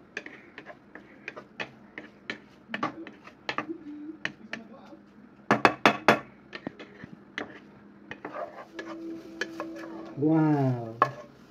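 Shirataki konjac rice is stirred in a non-stick pan over low heat, giving soft scraping and repeated light ticks of the utensil against the pan, with a voice briefly heard near the end.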